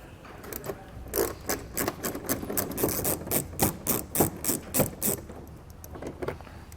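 A 5.5 mm socket wrench removes mud flap fasteners on a 2019 Ford F-350 Super Duty, giving a quick run of rhythmic ratcheting clicks, close and fairly crisp, that then stop.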